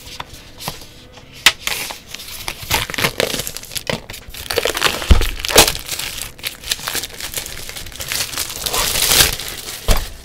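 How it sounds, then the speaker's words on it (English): Plastic packaging torn open on a JRIS80 keyboard kit with Gazzew U4T switches: close, loud crinkling and crackling, with sharp tearing bursts and rustles in uneven clusters. "let's open up this plastic here."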